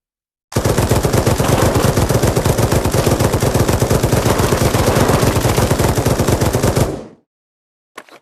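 Rapid automatic gunfire in a VR zombie shooting game on Oculus Quest 2, a loud, unbroken burst of closely spaced shots lasting about six seconds, then a brief faint clatter.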